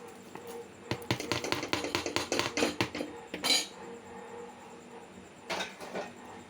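Fried garlic and curry leaves being stirred into dried shrimp sambal in a metal pan, with a burst of repeated spoon-against-pan scrapes and clinks followed by a few scattered knocks, close and fairly loud.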